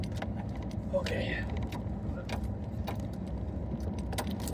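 A truck engine idles with the heater fan running as a steady, low hum, while keys jangle briefly near the start and someone says a word.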